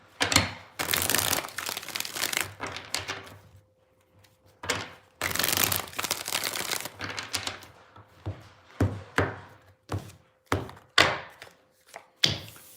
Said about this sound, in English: 2 more shuffles, 2 more